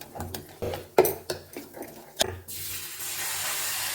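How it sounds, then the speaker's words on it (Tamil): Ragi dosa batter with onions is stirred in a bowl, with a handful of sharp clinks and scrapes of a utensil against the vessel, followed by a steady soft hiss. "நல்லா கலக்கி விட்டுக்கோங்க."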